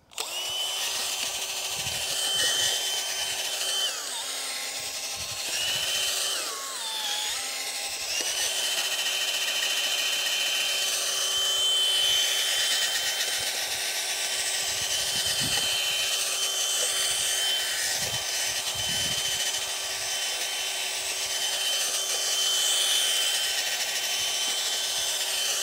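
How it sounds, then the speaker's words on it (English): A power auger churns and mixes soil in a garden planting hole for a Rose of Sharon, a steady close whining motor drone running for the whole stretch with brief dips in pitch as it bites into the dirt. "And then I amend it with the auger."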